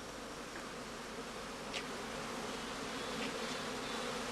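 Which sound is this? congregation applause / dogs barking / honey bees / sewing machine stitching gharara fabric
honey bees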